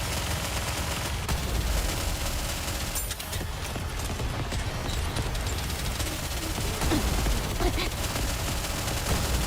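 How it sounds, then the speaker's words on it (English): Rapid, sustained gunfire from the video game Goddess of Victory: NIKKE, with dense bursts of automatic shots layered continuously over a busy battle mix with occasional heavier impacts. "Keep shooting."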